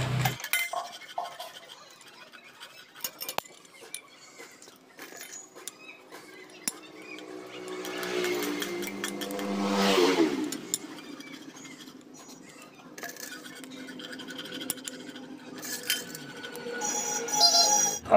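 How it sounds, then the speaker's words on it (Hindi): Clutch plates are fitted into a CBZ Xtreme motorcycle clutch, giving faint metallic clinks, scrapes and taps close by, with a soft rising swish partway through. "फिर अब हम क्लच प्लेट को लगाते हैं।"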